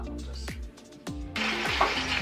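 Green beans hit the hot oil of a deep fryer, and a steady, loud sizzling hiss starts partway through and keeps going right after a voice speaks.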